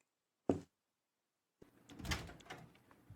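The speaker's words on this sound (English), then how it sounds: "Mark opens the door, and Mom and Dad are standing right outside" A door opening: a single sharp knock-like clunk, then a pause, then rustling and shuffling movement noises at close range.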